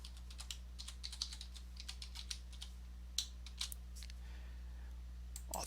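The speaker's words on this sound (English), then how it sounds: "type in your password" Password being typed on a computer keyboard, a run of quiet close key clicks over a faint low hum, with a few sharper taps near the end.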